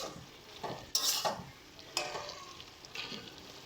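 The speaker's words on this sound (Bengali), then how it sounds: "চলো এটাকে একটু হালকা নাড়াচাড়া করে নামিয়ে নেব আমরা।" A spoon stirs pumpkin-stem curry with lentil dumplings and potato in a pan, giving soft sizzling and a few sharp scraping clinks about once a second, quiet and close.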